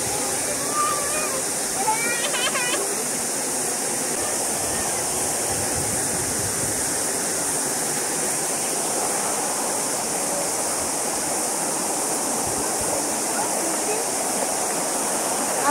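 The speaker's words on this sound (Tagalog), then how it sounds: "Ang ingay ng tubig, guys." Rushing stream water in Tararua Forest Park, New Zealand: a loud, continuous broadband roar of flowing water filling the whole span, with a voice speaking faintly beneath it.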